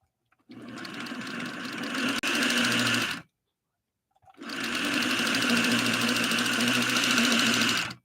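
A heavy-duty sewing machine motor runs in two steady bursts of about three seconds each, separated by a short silence, a loud close whirring hum with a strained mechanical buzz.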